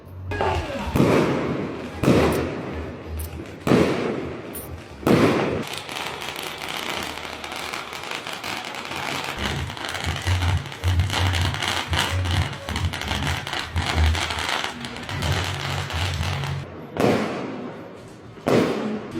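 Fireworks burst repeatedly at a Lunar New Year bonfire night at a hot spring hotel in Taishan, China, sharp booming cracks at irregular intervals with crackling in between, while a crowd's voices murmur underneath.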